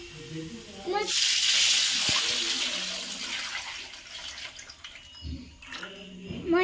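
Water is poured into a pot of semolina (rava) being cooked as a temple prasadam, a rushing hiss that swells up and gradually tapers off, with a voice talking near the start and end.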